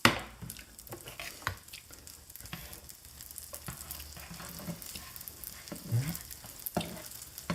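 Qatayef batter cooks on a hot griddle with a steady, soft sizzle and fine bubbling crackle, plus a few faint clicks and light handling sounds close by.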